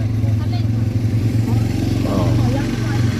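An ATV engine idles steadily and loudly up close at Khun Dan Prakan Chon Dam, a constant low rumble under people talking nearby.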